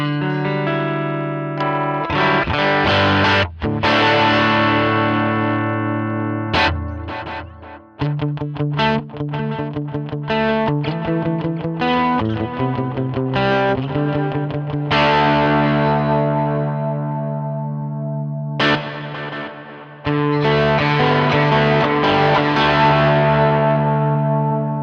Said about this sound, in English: That's that Fender sound.